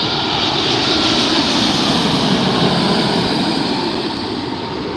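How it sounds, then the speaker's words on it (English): A Hawaiian Airlines Boeing 787 Dreamliner landing at Los Angeles Airport (LAX) at night makes a loud, continuous jet engine roar with a broad rushing noise that stays steady and close throughout, with no voices. "Hawaiian Airlines 787 Dreamliner. You can see it touching down."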